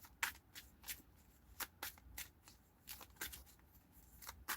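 Playing cards are shuffled in a run of quick, soft riffling bursts, close and fairly quiet, repeating at an irregular rhythm with no talk over them.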